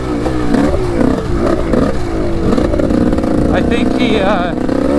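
A motorcycle with a freshly rebuilt top end idling and revving nearby with a steady, loud engine drone, while someone speaks over it and a brief higher whine rises near the end.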